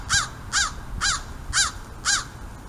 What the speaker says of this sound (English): There's a big crow up there.